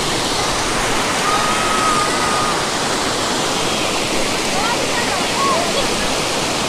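Lowjee hidden waterfall pours in a loud, steady broadband roar of rushing water close by. The sound stays constant without a break, and faint voices may be mixed into the noise.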